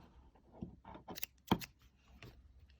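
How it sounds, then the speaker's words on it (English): Scissors snip through loops of yarn while a crocheted owl tablet case is being finished, giving a few quiet, close crisp cuts, the sharpest one in the middle, with no talking. "I can snip out 2 loops"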